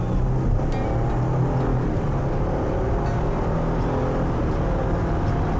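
A 2020 Ford Transit AWD van with a 3.5-liter turbocharged EcoBoost V6 pulls away, a loud, steady engine rumble with road noise from inside the cabin.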